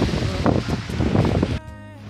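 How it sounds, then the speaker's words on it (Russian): Strong wind gusts through a rainy park in Buenos Aires, a loud roaring rush buffeting the microphone for a couple of seconds before dropping off abruptly. "потому что сильный ветер"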